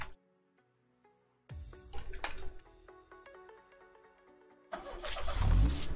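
A car engine in the PC battle royale game Knives Out starts and revs, with layered game sounds building up and a loud low rumble swelling toward the end; no talk.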